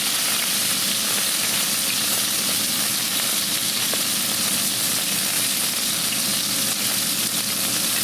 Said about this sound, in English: So what we're doing is basically searing the meat.